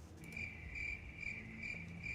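Steady cricket chirping, a continuous high trill pulsing in regular bursts, clear and alone with no talk.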